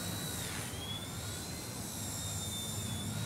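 A Blade mCP X micro RC helicopter flying backyard 3D with an old tail motor and tail boom gives off a continuous high-pitched motor whine with shifting pitch, steady and fairly close, with no talk.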